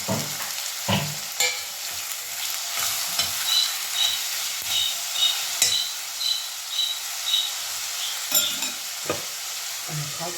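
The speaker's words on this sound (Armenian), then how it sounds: "արդեն յուղը դրել եմ, սոխը լցնում եմ սոխարած լինի" Onion sizzling in hot oil in a pan, a steady frying hiss punctuated by repeated scraping stirs with a utensil, close and moderately loud.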